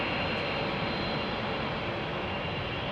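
A DHL Boeing 767 jet heading for takeoff at Heathrow Airport at night gives off a steady, broad engine roar with a high whine on top, loud and continuous, with no voices.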